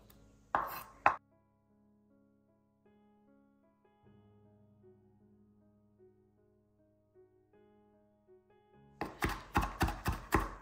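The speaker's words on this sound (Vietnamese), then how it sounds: "Mình bầm ớt và tỏi." A knife minces frozen chili and garlic by hand: a short burst of sharp chops, then a long lull with soft background music, then a rapid, even series of loud close chops at the end.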